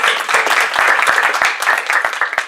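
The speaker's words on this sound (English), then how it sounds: "you all deserve a round of applause" Audience applause at an annual pro-life brunch, a dense, steady crowd clapping that fills the room and continues loud and unbroken with no talk over it.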